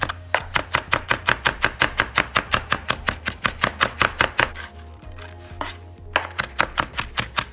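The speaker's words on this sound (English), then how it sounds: "So what we're gonna do now is just to run our knife through it, just to get it a little bit finer" A knife chopping shallots and pickles on a cutting board, fast, even rhythmic knocks close up, pausing briefly near the end before resuming.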